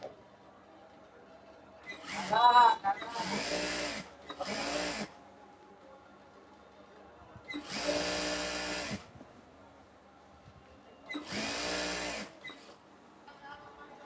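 A sewing machine stitches palazzo pants in short separate bursts, about five runs of rapid whirring close by, with quiet pauses between them.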